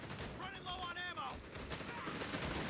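Machine gun suppression fire from a base MG in Company of Heroes 3, a dense, continuous clatter of gunfire and battle noise lasting throughout, with brief tonal whine mid-clip and a commentator's voice over the top.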